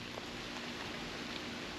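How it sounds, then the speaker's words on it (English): Faint, steady rain hisses outdoors in an even wash of noise, with no voices. "It is honestly raining."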